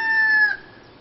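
A hen gives a single loud, drawn-out cluck close to the microphone, which ends abruptly and leaves a quiet room.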